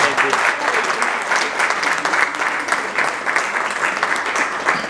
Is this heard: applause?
yes